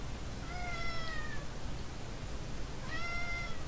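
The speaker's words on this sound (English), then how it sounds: "Kitty has a lot to say" A cat gives two drawn-out, clear meows about two seconds apart over a steady background hiss, near and moderately loud, with no speech.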